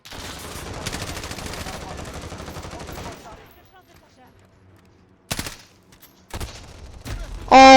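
Automatic turret gunfire in Call of Duty multiplayer, a rapid loud burst for about three seconds, then quiet with a few short sharp shots and noises later.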